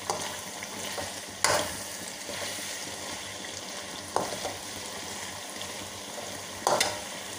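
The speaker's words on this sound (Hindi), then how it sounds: "देखिए आलू बैंगन हमारे भुन के जो है वो तैयार है।" Potatoes and eggplant fry in oil, a steady close sizzle broken by a few sharp scraping stirs of the pan, with no talking.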